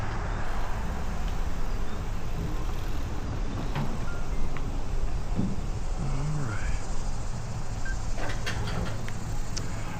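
Continuous road traffic roar on a hill climbing away from a gas station near McKeesport, Pennsylvania, steady and fairly loud, with a few brief squeaks and higher chirps cutting through.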